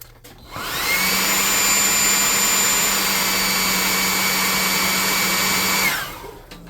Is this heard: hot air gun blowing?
yes